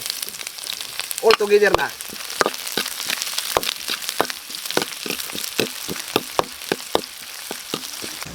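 Ingredients sizzle and fry steadily in a hot pan, sautéed as the first step of a pineapple-braised oxtail and beef skin dish with milk, with scraping stir clatters and a brief voice mixed in near the start.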